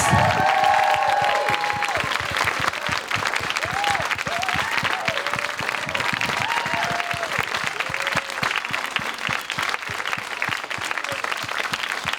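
A room full of people applauds former AAF staff as they stand, sustained loud clapping with cheers and whoops rising over it.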